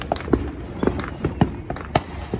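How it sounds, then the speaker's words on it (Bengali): Fireworks crack and pop repeatedly in a residential area on US Independence Day, July 4, with one whistling rocket among the scattered bursts. "সব খালি চারদিকে আতশবাজি ফুটেই যাচ্ছে"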